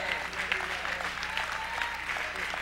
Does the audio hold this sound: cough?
no